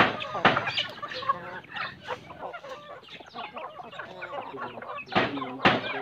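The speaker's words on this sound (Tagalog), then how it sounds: "Ngayon ay nagugutom na yung mga manok ko." A flock of hungry chickens clucks and squawks busily nearby, with overlapping calls and a few sharp louder cries.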